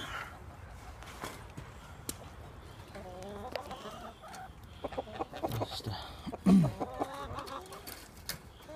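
Chickens cluck and murmur in a garden bird pen, a steady scatter of calls from several birds close by, with a louder squawk near the end and a few footsteps or knocks underneath.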